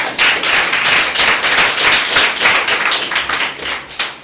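A church congregation applauds during a Sunday service, a dense, steady burst of many hands clapping together, close and loud, lasting a few seconds before tapering off.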